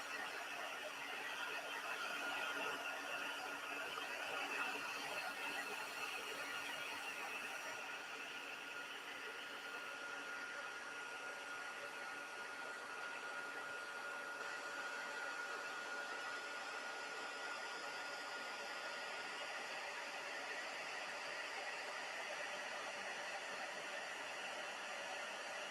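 A heat tool blows a steady, even whoosh while heat-setting embossing powder at a craft table, a faint unbroken airflow hum that runs throughout with no talking.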